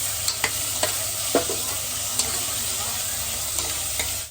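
Chopped carrots, green peas and tomatoes sizzle in an oily pan for vegetable biryani while a spoon stirs them. The spoon scrapes and taps sharply now and then over a constant close frying hiss.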